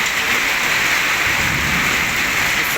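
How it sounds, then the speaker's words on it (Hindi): Heavy rain pouring down steadily outdoors, a loud, dense, unbroken hiss that fills the whole short stretch, with no voices. "शदीद बारिश हो रही है, शदीद किस्म की।"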